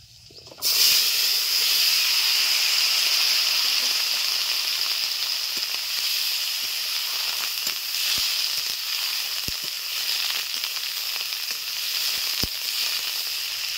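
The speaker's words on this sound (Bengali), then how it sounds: "দিয়ে দিচ্ছি ছোট ছোট করে কেটে রাখা এঁচোড়" Small-cut raw jackfruit tipped into hot oil tempered with black cumin seeds, giving a loud, continuous sizzle and hiss that stays steady throughout with occasional faint clicks and stirring.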